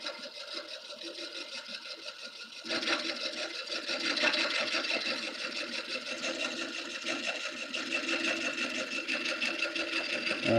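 A wood lathe turns a lampshade at low speed, a steady mechanical whirr with scraping tool contact joining in after a couple of seconds, close and continuous.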